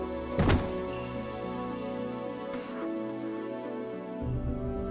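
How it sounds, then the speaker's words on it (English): A single light thud of a bag dropping onto the ground in a visual novel game lands early, a soft short knock set over a steady, sustained musical backdrop. "A black object lands in front of me with a light thud"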